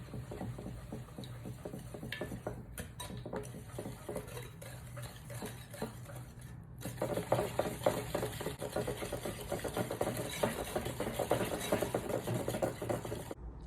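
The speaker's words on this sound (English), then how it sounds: "Now I'm adding 2 cups of sugar. And I'm going to give this a little whisk." Sugar being whisked into wet cake batter ingredients in a bowl, quiet rhythmic scraping and clinking that grows louder and busier partway through.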